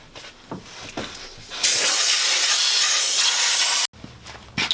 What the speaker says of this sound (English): Let's blast it out with some air